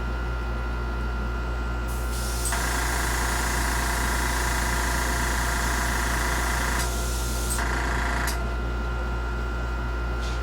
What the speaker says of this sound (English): We'll give this a quick dry, and we'll spray our second coat.